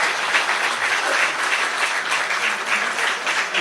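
A crowd claps loudly and continuously at a Madhya Pradesh Congress party meeting in the state party office, a dense, sustained burst of applause with no talking over it.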